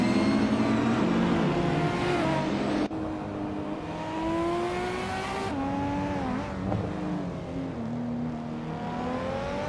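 A 1996 Lamborghini Diablo Jota and other race cars roar continuously in a racing video game, engines rising and falling in pitch through gear changes, loud and close with a layered, droning whine.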